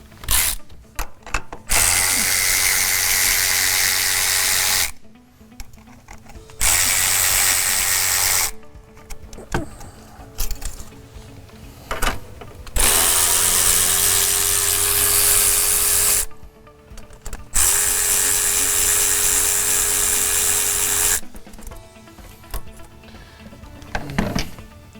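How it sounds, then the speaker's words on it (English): Power tools whirring and ratcheting in long loud bursts with short pauses while the intercooler pipe is removed from a 2000 Ford Excursion, close up in a workshop, with mechanical clicks between runs and no talk. "now we're going to go ahead and remove our intercooler pipe"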